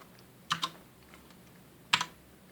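Keys clack on a Gigabyte Force K83 mechanical keyboard with Cherry MX Red switches: two close pairs of crisp presses, the second pair after a short pause, with nothing else heard.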